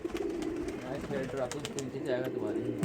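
Pigeons coo softly beneath people talking nearby, with a low, rolling warble running through the chatter.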